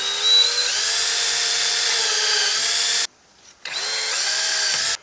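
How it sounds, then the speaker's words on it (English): A power drill fitted with a standard bit bores through a wood piece, giving a loud, steady high whine that stops briefly for about half a second, then starts again for another long run with no talk. "Let me go ahead and just drill on through this wood piece"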